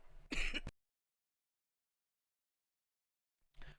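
Two brief bursts of throat clearing or coughing, one near the start and another after a long silence, close and fairly loud.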